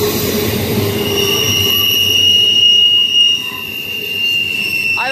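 Eastbound CSX Q138 freight train led by two SD40-3 locomotives rolls past, with steady rumble of railcars, a sustained high wheel squeal, and a brief clanking flutter near the end.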